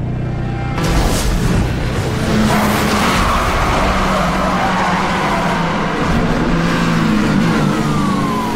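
A BMW E92 M3 coupe in the racing game Need for Speed Hot Pursuit roars loudly and continuously as it accelerates, with tire squeal and road noise layered over the sustained engine howl.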